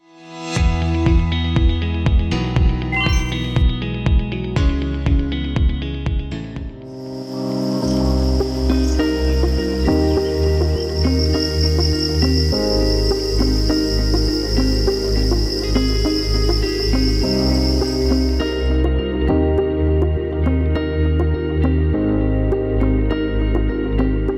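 Farmed crickets on an industrial cricket farm, a steady high chirping trill over a busy backdrop of music with deep bass and bright melodic lines that carries through most of the clip.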